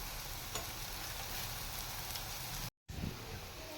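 Lentil and pumpkin-peel fritters frying in mustard oil, a dense steady sizzle like heavy rain, close and loud, cut by a brief silent gap near the end.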